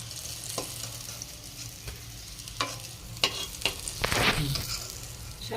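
Pieces of bottle gourd fry in oil with a soft steady sizzle, punctuated by several clinks and scrapes of a utensil and a brief louder burst of spattering near the end.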